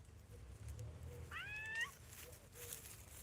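A single short cat meow rises clearly out of quiet outdoor garden ambience, with low background rumble underneath and no speech.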